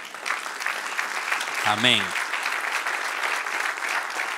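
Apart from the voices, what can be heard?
congregation applauding in church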